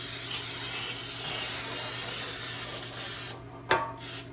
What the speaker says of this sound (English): I'm going to spray this with the flour and oil spray.